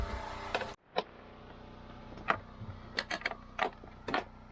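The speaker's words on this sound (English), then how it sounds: "we'll snug down the bolts on the toilet are to be torqued between 30 and 40 inch-pounds" Bolts on an RV toilet being snugged down by hand, giving a string of short, light ticking and clicking ratchet-like sounds in sparse bursts at close range, with no talking.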